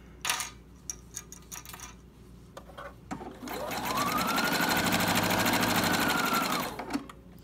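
A sewing machine stitches a Cricut Maker dust cover with elastic in one steady, loud run lasting several seconds, preceded by a few brief clicks and handling taps.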